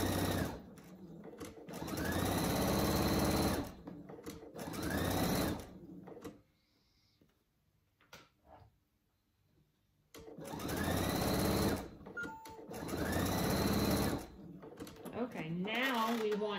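Sewing machine stitching fabric in loud, steady bursts separated by pauses, with quiet handling sounds in the gap.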